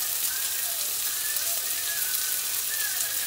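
Garlic, ginger, small chilies and onions sizzle steadily in a hot pan for noodles, a dense, even crackle with no talk over it.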